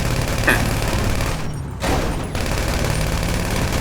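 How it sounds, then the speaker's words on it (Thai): Steady, dense gunfire in GTA V Online, a continuous loud rattle of shots with a brief drop-out partway through, no voices over it. "คนยิงผมอยู่ใต้ต้นไม้"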